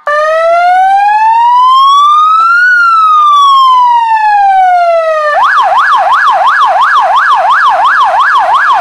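A siren sound effect plays as a livestream gift: a loud electronic siren first sweeps slowly up and down in a long wail, then switches to a rapid warbling yelp, alone and close.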